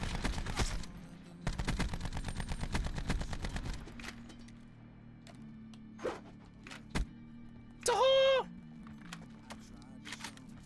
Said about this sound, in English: This gun shoots so fast.